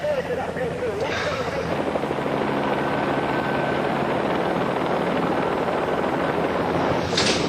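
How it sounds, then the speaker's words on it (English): A police helicopter drones steadily overhead throughout, its rotor noise constant and loud, with a brief voice over it near the start. "The helicopter directs a police dog handler to the passenger."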